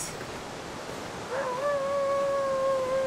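A wolf in the wilderness survival game The Long Dark lets out a single long, clear howl, starting softly and holding a steady mournful pitch at moderate distance over a windy background hiss.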